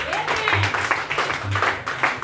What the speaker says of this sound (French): Acclamons pour votre frère.